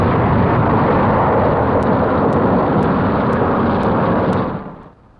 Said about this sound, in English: Here is real pinpoint bombing.